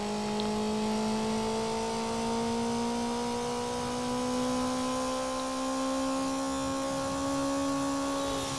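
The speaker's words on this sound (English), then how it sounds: "That lovely engine sound is lovely." Car engine in the racing video game Need for Speed: Underground, a steady, loud, sustained drone with gradually rising tonal pitch under a hiss of road and wind noise, without speech.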